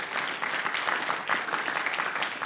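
Vigorous, steady clapping from a church congregation during an Easter resurrection service at an Asian church in Canada, dense and continuous with no voices over it.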